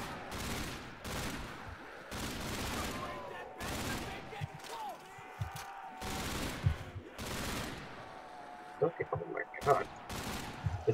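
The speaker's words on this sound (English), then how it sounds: "Feels like I'm using the overpowered ass submachine gun over here." Submachine gun hipfire in Call of Duty Zombies, rendered as repeated loud bursts of rapid game gunfire in several spurts, with talking in between and a few sharp single shots near the end.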